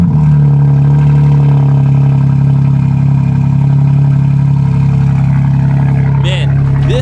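A BMW G80 M3 cold-starts and settles into a loud, steady, droning idle close by, with one brief rev blip near the end.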